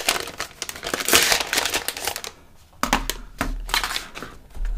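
Crinkly packaging rustles and crackles in busy bursts as a colourful 2021 M1 iMac keyboard is unwrapped, followed by a few separate crisp crinkles after a short pause, close and fairly loud.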